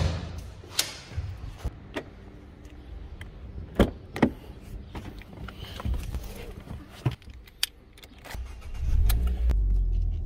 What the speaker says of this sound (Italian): Adesso siamo in macchina